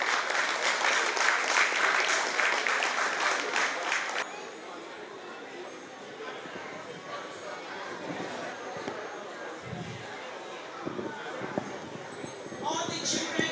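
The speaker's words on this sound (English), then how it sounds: "Can we please clap for them" Applause from a school hall full of children and staff, clapping for two class teachers, loud and dense for about four seconds before fading into a murmur of chatter and movement.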